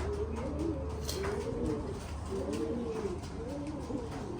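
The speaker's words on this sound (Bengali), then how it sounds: "সকালবেলা এখনো কবুতরকে খাবার দেওয়া হয়নি।" Pigeons in a rooftop pigeon house at a home give repeated soft, rolling coos in a slow rhythm over a steady wash of rain and background noise.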